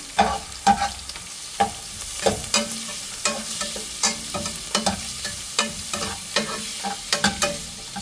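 Ginger, garlic and green chillies fry in a hot pan for a mutton mandi, with a continuous sizzle and repeated sharp scraping knocks from stirring, close and fairly loud.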